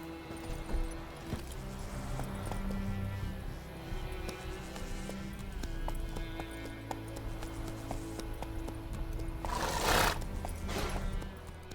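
In The Witcher 3 video game, horse hooves clip-clop among ambient sounds before a horse gives a loud, brief neigh near the end.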